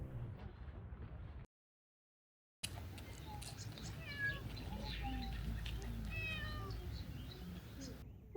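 A cat meows several times, close by, amid outdoor background noise after a brief silent gap.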